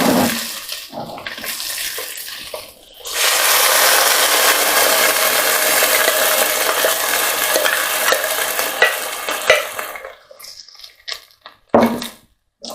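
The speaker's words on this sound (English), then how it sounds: "give that a mix round." Vegetable stock poured into roasted red pepper soup and mixed, with a loud rushing liquid pour and stirring for several seconds, then quieter scattered clinks and scrapes.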